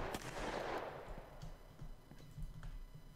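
A single faint video game gunshot cracks near the start and decays into a quiet, low background hum.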